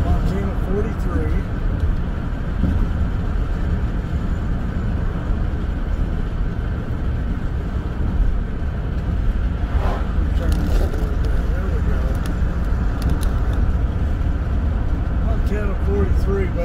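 A car cruises along Montana Highway 43 west of Butte, with loud, steady road and engine rumble filling the cabin throughout while someone talks over it.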